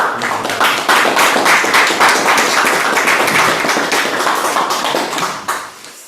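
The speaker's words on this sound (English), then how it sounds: "Maybe we'll give him a round of applause." A small group gives a round of applause for a speaker at a Buddhist centre meeting, close and fairly loud, holding steady for about five seconds before tapering off near the end.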